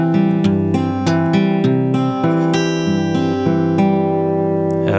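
Acoustic guitar fingerpicked in a slow Travis crisscross pattern, with steady alternating bass and treble plucks ringing out, close and clear with no talking.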